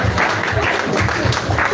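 Audience applause welcoming a woman onto the stage at a women's award ceremony, a steady, fairly loud wash of clapping with rhythmic pulses throughout, no speech over it.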